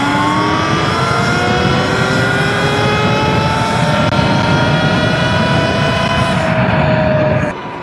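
A Surron Light Bee electric motorbike at full throttle, its motor whine climbing steadily in pitch as it accelerates hard, loud and close under rushing wind noise, cutting off abruptly at the end.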